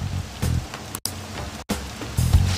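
Rain falls in Persona 5, a soft steady hiss of drops broken by two abrupt near-silent cuts, with faint low thumps rising under it.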